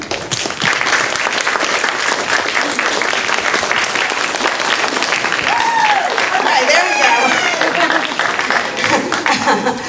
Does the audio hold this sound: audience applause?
yes